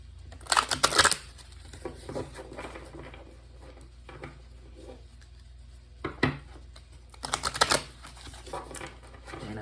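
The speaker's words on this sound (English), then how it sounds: "I'm just going to do a quick shuffle" Soul's Journey oracle cards are shuffled in quick bursts of riffling and papery crunching, close by, with quieter handling between two loud shuffles.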